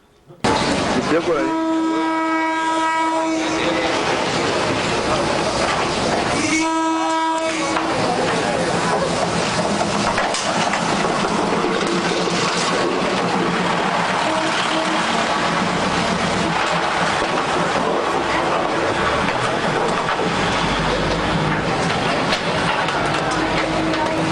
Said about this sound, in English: there's a train line that runs right through the middle of your favorite alley